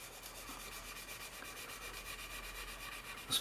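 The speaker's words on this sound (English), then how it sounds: "This is a medium sanding strip, and you just gently sand away." A medium flexible sanding strip rubbing gently over a plastic seam on a 1/48 Airfix Supermarine Spitfire Mk.XVIII model, a quiet, steady back-and-forth scratching rhythm, close and faint, with a small knock at the end.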